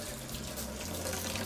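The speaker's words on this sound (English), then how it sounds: "so we'll drain the pasta" Cooked fileja pasta water pours steadily into a sink as it is drained, a continuous rushing splash at close range with no pauses and no voices.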